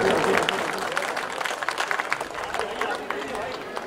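An audience at a mushaira in Govandi claps in welcome, giving a dense, steady patter of applause that carries on throughout, with voices faintly mixed in.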